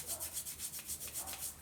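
Palms rub briskly over the pulse point of the wrist to build heat, making a quiet, steady swishing friction that repeats about every tenth of a second, alone and close.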